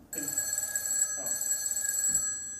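Telephone bell ringing indoors in a steady electronic trill, loud and close, with a brief gap partway through.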